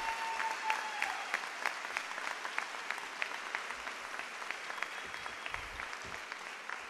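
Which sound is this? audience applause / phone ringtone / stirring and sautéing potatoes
audience applause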